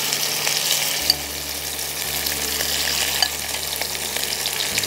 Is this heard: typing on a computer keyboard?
no